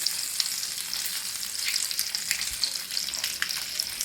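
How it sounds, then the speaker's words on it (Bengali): Eggs fry over medium heat, sizzling and crackling steadily in a hot pan, with scattered pops and spatters throughout and no talking. "দু পিঠ আমি লাল লাল করে ভেজে নেব"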